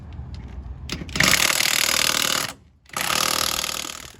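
Power tool, likely an impact wrench, breaking loose rusted wheel hardware on a 1951 Ford F1 truck: loud, close, rattling hammering in two long bursts separated by a brief pause.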